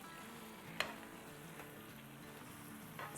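Mutton karahi mixture with spices is stirred in a sizzling pan, with a soft scrape near the start over a steady frying hiss, then quieter stirring noises.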